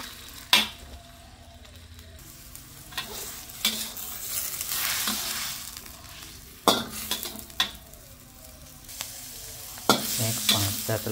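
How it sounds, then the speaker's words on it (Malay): Oysters frying in a little oil in a pan, a steady sizzle broken by several sharp clanks and scrapes of a utensil stirring against the pan, close and with no voices. "Goreng dia sehingga kecut."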